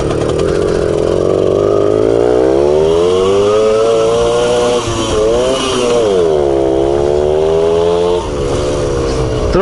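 A Motorynka moped engine buzzes loudly and steadily while riding at speed, its pitch rising and falling with throttle changes and a couple of brief dips near the end.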